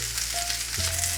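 Steak sizzling in a hot pan, a steady close hiss with no talking.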